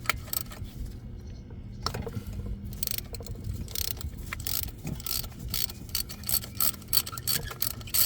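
A socket ratchet with an extension loosening a spark plug on a Honda Accord 2.4L engine, heard close up as bursts of rapid clicking mixed with metallic clanks and short pauses in between.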